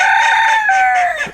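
A backyard rooster crows once, loud and close, one long drawn-out call that trails off at the end, with no other sounds around it.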